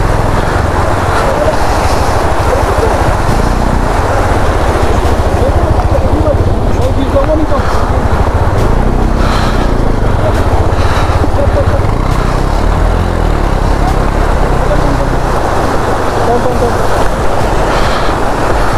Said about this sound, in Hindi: और क्या स्पीड में पानी आ रही है, बहुत पानी है, बहुत पानी